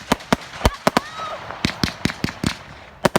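A Big Star Fireworks Devil's Curse firework goes off in a 2020 UK display. Sharp, loud cracks come in an irregular rapid series, with a brief whistling streak early on.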